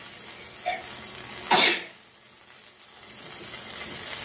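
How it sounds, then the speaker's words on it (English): Goan fish eggs fry for recheado in a pan with a soft sizzling hiss and a louder burst of spatter or stirring midway, then a low steady crackle close by; no speech. "So, this is now nicely fried."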